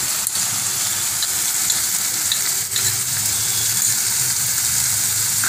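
Poppy seed paste fried in oil and stirred in a pan, a loud, steady close-up sizzle with faint scraping strokes running throughout.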